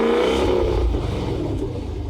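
A 2025 Cadillac Escalade V ESV, a large luxury SUV, fires up with a loud low engine roar that settles into a deep rumbling idle, close by, with no talking.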